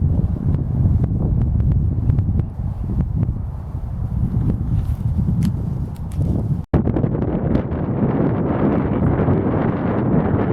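Strong gusts of wind buffet an outdoor microphone beside a shallow pond or pit, a steady loud rumble that persists through the whole stretch with only a brief dropout partway.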